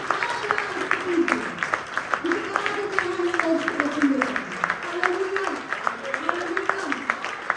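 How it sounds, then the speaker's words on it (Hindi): A church congregation at a marriage seminar applauds steadily, a dense and continuous wash of clapping while a voice keeps talking over it. "जोरदार तालियां बजाएंगे यीशु मसीह के नाम में।"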